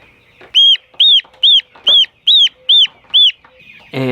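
Three-week-old heritage turkeys give seven loud, evenly spaced high calls close by, each short and sharp, with quiet gaps between them and a brief scuffle at the end.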